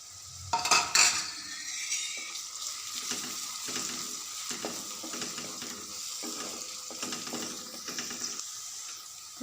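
Chopped garlic, ginger and green chillies fry in a pan for sarson ka saag. A few sharp utensil clinks open, then a continuous sizzle runs under repeated soft stirring scrapes and taps.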